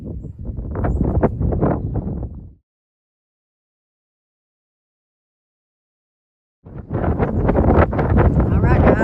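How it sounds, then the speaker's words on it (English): Strong wind gusting as an arctic weather front arrives outdoors, roaring loud in two bursts separated by a silent gap of several seconds, with a voice speaking over the gusts. "Hear the wind. right on top of us."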